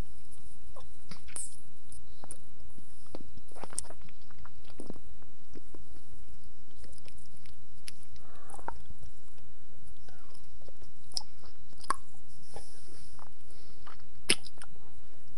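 Someone chews and bites a jawbreaker candy close to the microphone, producing scattered sharp clicks and crunches with wet squishy mouth sounds over a quiet background.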